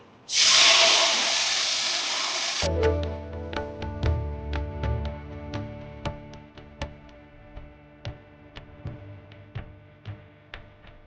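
Water poured onto roasted semolina in a hot pan gives a loud, close burst of steaming hiss lasting about two seconds, then settles into bubbling with regular sharp clicks and taps of a spoon or lid.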